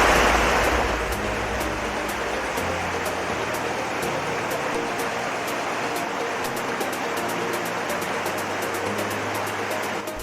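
Steady, loud rushing of a river flowing past a riverbank near a waterfall site in Langkat, a dense continuous roar heard close up without a break.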